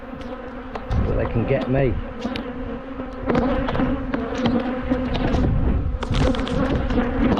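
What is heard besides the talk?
bees buzzing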